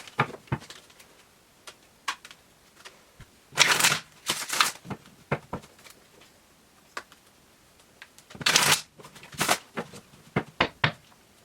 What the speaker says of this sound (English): shuffling cards on camera for you guys